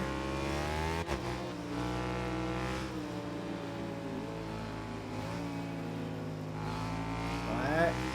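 An RC-R motorcycle in the video game Ride 6 revs and accelerates in track mode with rising harmonic whine, steady and loud throughout, with a brief pitch climb near the end.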